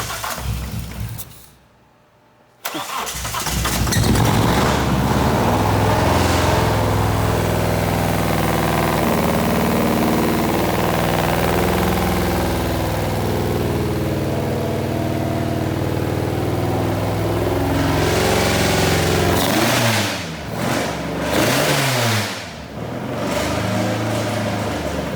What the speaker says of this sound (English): And now Andy's gonna give it a start. We'll see if she goes